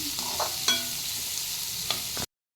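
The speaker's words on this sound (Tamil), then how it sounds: "நல்லா வெங்காயம் வதங்கிடுச்சு." Onions sautéing in a pan for a home-style anchovy dried-fish thokku, a steady close sizzle broken by a few scrapes of a spoon stirring, then cutting off abruptly.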